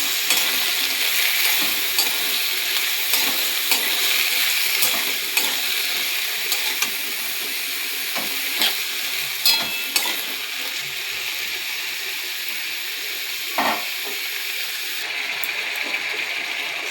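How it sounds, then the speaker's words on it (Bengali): Potatoes fry with a constant bright sizzle in a pan while a utensil stirs and scrapes through them in scattered close clicks and knocks, with no talking. "নেড়ে নেব।"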